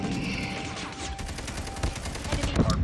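Rapid bursts of KN44 rifle fire in a Call of Duty multiplayer match, dense overlapping shots growing heavier toward the end, with game noise and no voices.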